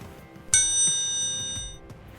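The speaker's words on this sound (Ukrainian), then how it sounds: "Цей музичний інструмент має таку ж саму назву трикутник. Послухайте, як він звучить." A single bright metallic ring as a triangle is struck once, sustaining with a clear shimmering tone for over a second before fading, with faint room noise around it.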